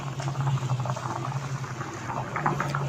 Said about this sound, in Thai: อันนี้ต้มอยู่เนาะต้มเครื่องใน